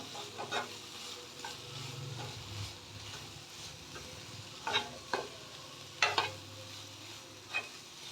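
An onion flower curry is stirred in a frying pan, with a soft steady sizzle beneath a handful of sharp scraping and clinking strokes of the spoon against the pan.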